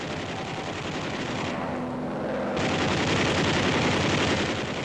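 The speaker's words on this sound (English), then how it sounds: "The waste guns use 50 caliber incendiaries to start fires." Waste guns on a B-24 bomber fire .50 caliber incendiary rounds in continuous bursts while strafing storage tanks near a refinery, a dense sustained rattle over heavy engine roar that briefly thins, then returns louder.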